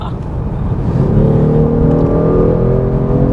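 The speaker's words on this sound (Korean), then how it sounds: "이 엔진 소리가 뭐 저는 개인적으로 만든 소리인데 잘 만들었다고 생각해요" Synthetic engine sound piped into the cabin of a Genesis G70 3.3T under acceleration, a loud low rumble rising into a steady revving tone with faint talk underneath.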